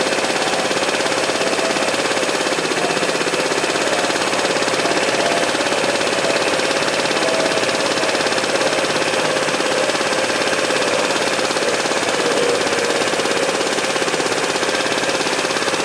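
A scooter engine runs steadily during carburetor adjustment, a dense, constant mechanical drone with rough, knocking texture that holds unchanged throughout, with no voices.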